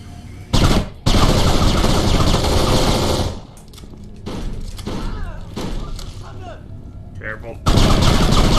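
Automatic weapons fire in the shooter game Kane & Lynch 2: Dog Days in loud sustained bursts, a long rattling stream cut by pauses, with scattered softer shots and game sounds between bursts.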